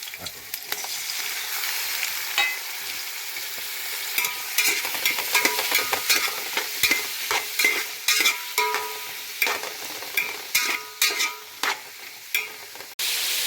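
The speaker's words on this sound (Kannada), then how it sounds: "ಮೀಡಿಯಂ ಫ್ಲೇಮಲ್ಲಿ ಐದು ನಿಮಿಷ ಫ್ರೈ ಮಾಡ್ಕೊಳ್ಳಿ" Onions and tomatoes frying on a medium flame for green masala chicken biryani: a continuous crackling sizzle with a regular series of scraping stirs against the pan, close and fairly loud, no voices.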